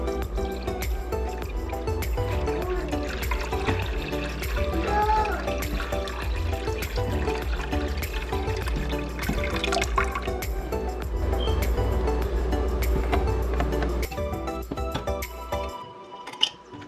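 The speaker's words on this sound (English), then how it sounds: "fill the bin up with water" Water pours steadily into a plastic hydroponic bin, a constant splashing rush over a low hum, then cuts off near the end.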